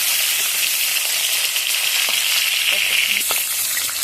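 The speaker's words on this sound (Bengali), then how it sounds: "নুন আর হলুদ মাখানো চিংড়ি মাছগুলো তো ভেজে নিচ্ছি" Prawns coated in salt and turmeric fry in hot oil, giving a loud, dense, continuous close sizzle with faint crackles and no voices.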